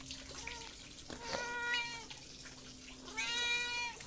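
A cat gives two drawn-out meows, close and clear, in a home in Himachal, with a faint hum and light watery sounds in the background and no speech.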